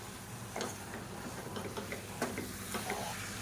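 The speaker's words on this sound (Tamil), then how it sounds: "இப்போ இது எல்லாத்தையும் நல்லா வதக்கி விட்டுக்கலாம்" Boneless chicken pieces sauté in a pan under a low, steady sizzle, with light scraping strokes and taps as they are stirred.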